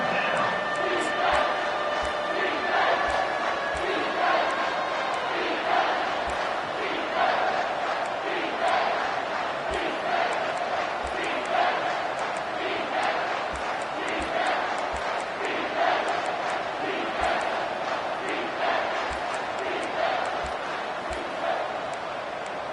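Loud, steady roar of a video-game stadium crowd in an NCAA college football game against Air Force, with swelling cheers and chants sustained throughout the whole stretch.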